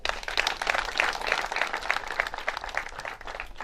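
An audience at a Rwandan wedding ceremony bursts into applause, a dense crowd of clapping hands that stays steady and lively for several seconds, heard at moderate distance.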